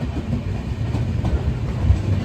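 The Lalbagh Express, a Chennai to Bengaluru train, rolls past close by with a loud, steady low rumble and rhythmic clickety-clack of wheels over rail joints, with no voices.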